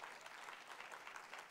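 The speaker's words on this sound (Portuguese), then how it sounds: "Você pode aplaudir a Deus por isso?" A church congregation claps during a sermon, a brief wash of steady, fairly faint applause from a crowd at a distance.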